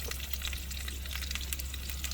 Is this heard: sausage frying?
yes